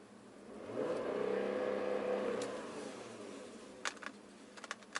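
A Porsche Cayenne engine is revved once: the note climbs, holds for about a second and a half, then falls back toward idle, heard from inside the car, followed by a few faint clicks.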